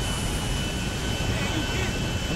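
A jet plane flies in the video game GTA V, its steady engine roar filling the clip as a dense, continuous wash of noise with a faint electronic hum.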